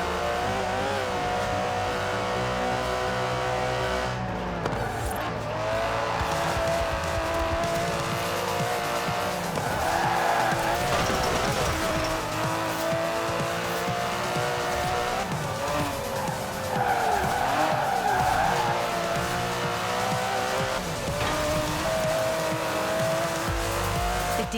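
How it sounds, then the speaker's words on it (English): An Aston Martin DB11 driven in Forza Horizon 4, its engine droning steadily and close up as tires squeal and skid through corners, the revs rising and falling over a long continuous run. "It's an Aston Martin."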